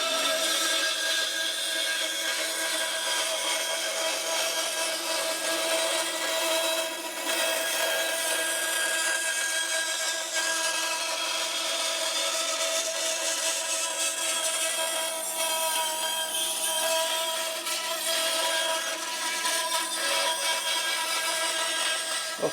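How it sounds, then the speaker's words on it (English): Bandsaw cutting excess wood away from a Les Paul-style guitar body, a loud, continuous whining drone with a steady rasp of blade through timber, running unbroken throughout with no speech. "we're going to take it over to the bandsaw and remove a lot of this excess material"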